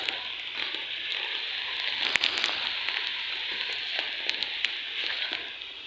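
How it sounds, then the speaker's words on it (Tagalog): Steady rain pouring down, a dense even hiss with scattered sharper drops pattering on a surface, fairly close and continuous throughout. "hindi masyadong malakas ang ulan at hangin"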